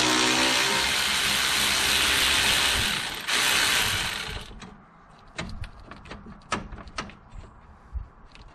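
Ratchet spinning out fan shroud screws on a 1998 Jeep Cherokee XJ during a water pump replacement: a long run of rapid, close clicking, then a pause and a series of separate sharper clicks and taps.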